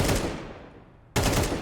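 Counter-Strike 2 rifle spray fires in two loud, close bursts of rapid automatic shots, separated by a short gap as the first burst's echo fades.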